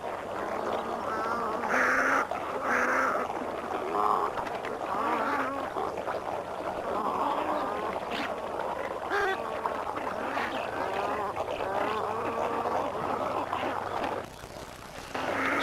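Magpie geese calling in a New Guinea wetland, a steady chorus of honking, overlapping calls carrying on without pause, fairly close and loud, dropping briefly near the end.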